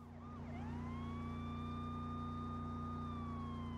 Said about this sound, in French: C'est bien ça, la sirène se remet toute seule